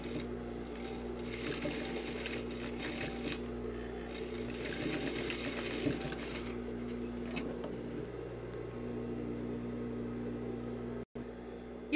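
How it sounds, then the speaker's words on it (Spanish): A sewing machine runs a continuous stitching seam over zipper teeth, a steady close mechanical whir with rapid needle ticking, alone, cutting off briefly near the end. "Ahora vas a pasar una costura sobre los dientitos."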